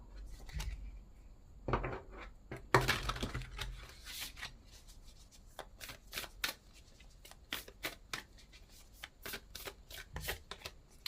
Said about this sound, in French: Je vous prends une petite carte ici pour terminer.